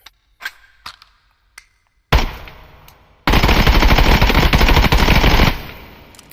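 A 5.56x45 rifle in the video game Contractors empties a full magazine in one long, loud, rapid-fire burst, preceded by a few faint clicks and a short single shot and tail, then ringing off at the end.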